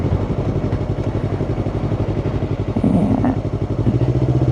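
A Yamaha R3 motorcycle engine chugs steadily at low revs close by while a beginner rider learns to ride, with a brief voice heard over the pulsing idle.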